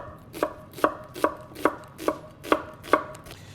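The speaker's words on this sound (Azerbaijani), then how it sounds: "Soğanı doğrayaq." Onion being chopped on a board beside a wood-burning stove while making layered xəngəl: seven crisp, evenly spaced knife chops about every 0.4 seconds, close and clear, with no talking.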